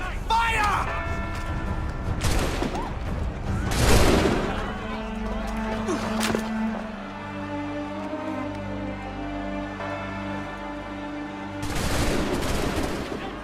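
Musket volleys crack out in the video game Assassin's Creed 3, with a few sharp bursts of gunfire spread across the stretch amid battle ambience and shouting voices.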